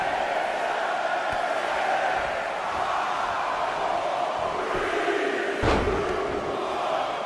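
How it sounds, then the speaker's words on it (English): A wrestling video game crowd roars continuously during a royal rumble match, a dense loud wash of cheering voices with a brief thump near the end. "Listen to this crowd count the next one in."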